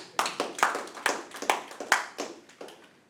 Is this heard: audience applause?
yes